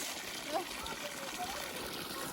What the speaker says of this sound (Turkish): Şöyle akıyor suyumuz.